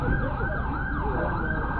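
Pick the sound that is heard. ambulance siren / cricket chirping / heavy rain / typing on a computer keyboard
ambulance siren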